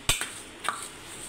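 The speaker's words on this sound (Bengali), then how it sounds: "যে পেঁয়াজ নিয়েছি, কাঁচা লঙ্কা কুচি, নুন, একটু চাট মশলা দিয়ে ভালো করে মুলে নেব।" A few sharp clinks of a utensil against a bowl while chopped onion, green chilli, salt and chaat masala are mixed together; two quick knocks, then a softer one, with quiet in between.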